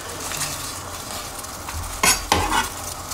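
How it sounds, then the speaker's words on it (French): Carrots tipped into a pot of cooking water for stuffed courgettes land with two quick, close splashing bursts over a steady background bubbling hiss. "Hop, on met les carottes."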